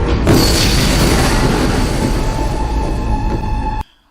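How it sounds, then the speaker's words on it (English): A big explosion in a fantasy TV series scene, a loud sustained roaring blast with rumbling debris that fills the frame for nearly four seconds, then cuts off abruptly to silence. "There was this explosion, and he pretty much vanished into thin air."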